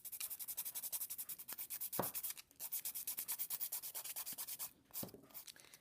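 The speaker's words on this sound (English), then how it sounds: "I'm just going to sand this nail to make sure it's nice and smooth" Rapid back-and-forth rasping of a nail file sanding an acrylic nail from a Kiss acrylic kit, steady rhythmic strokes up close with two brief pauses, no talking.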